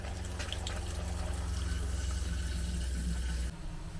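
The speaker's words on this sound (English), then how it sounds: "And then you just turn on the faucet until you start seeing the pink stuff come through." Water runs from an RV kitchen faucet in a Grand Design Imagine 2400BH travel trailer while pink antifreeze is flushed through the lines, a steady close rushing stream that cuts off sharply near the end.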